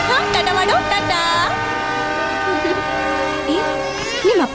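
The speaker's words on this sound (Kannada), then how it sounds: "ಹೇ ನೋಡು ನೋಡು, ಟ್ರೈನ್ ನೋಡು." A train sounds its horn in long sustained tones while rolling nearby, the horn rising and bending over a steady rumble, with voices in the background.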